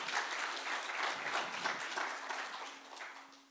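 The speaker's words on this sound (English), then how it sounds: "Give a round of applause for our partners." An audience claps for partners at the Hospiton 2025 hackathon final pitch session, steady, moderately loud applause that lasts a few seconds and then begins to fade.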